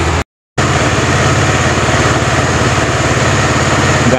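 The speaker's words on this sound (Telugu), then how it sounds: "కొంచెం కోల్డ్ స్టార్ట్ అయితే చేద్దాం" A KTM Duke motorcycle idles after a cold start, having sat unused for many days, its single engine putting out a loud, steady, even throb close to the microphone, with a brief gap of silence near the start.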